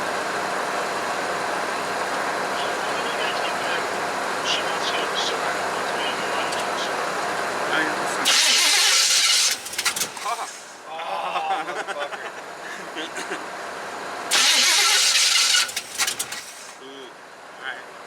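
A 1978 vehicle engine, idle for two years, cranks and tries to fire amid steady broadband noise, with two loud roaring bursts standing out near the middle and toward the end.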